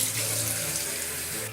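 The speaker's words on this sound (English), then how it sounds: "you fill it with kind of like room temperature water" Room-temperature water runs steadily from a tap into a bucket, filling it for plaster bandages, a close, continuous splashing rush with no voices.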